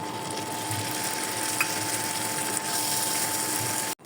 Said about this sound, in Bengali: একদম ভালোভাবে কষিয়ে লাল লাল করে ভাজা ভাজা করে নেব